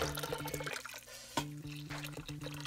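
Beer pours steadily into an Instant Pot for a few seconds, a soft splashing gush with faint drips, alone and fairly close.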